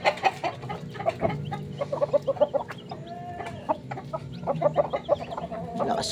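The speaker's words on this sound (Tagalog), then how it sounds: "Check natin ang ating mga sisiw." Native chickens and chicks on a farm, with repeated close clucks and soft high peeps scattered irregularly across the scene, a few louder calls standing out above a low background.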